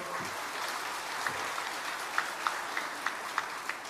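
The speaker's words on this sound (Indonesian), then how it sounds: "tepuk tangan untuk beliau" Applause from an audience at a formal speech by the Governor of Central Java, heard as a steady, fairly faint wash of clapping with a few sharper individual claps standing out toward the end.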